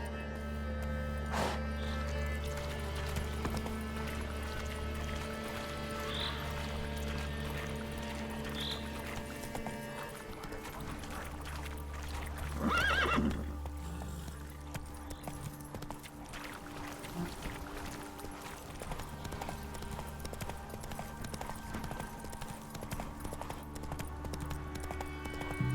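Horse hooves clip-clop steadily through a fantasy landscape in The Witcher 3: Wild Hunt on Xbox Series S, a brief louder burst midway, with no clear neigh standing out.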